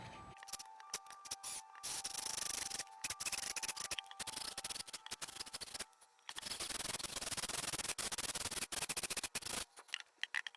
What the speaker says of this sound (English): So now I'm just going to go ahead and drill into this very carefully, not to drill through, and hopefully not to crack the cup.